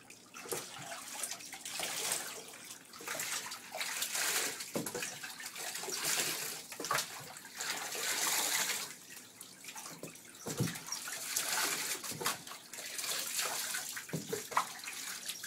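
Water sloshes and splashes continuously in a bathtub as a dog named Brock is washed, with steady pouring and swishing close by and occasional sharper splashes.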